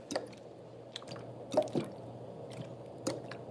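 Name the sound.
ASMR water sounds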